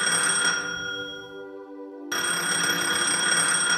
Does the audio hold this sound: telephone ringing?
yes